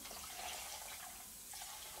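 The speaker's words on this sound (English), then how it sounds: "I'm gonna put a good bit of thinner xylene in it" Xylene thinner poured into paint in a workshop, a faint, brief liquid trickle and splash.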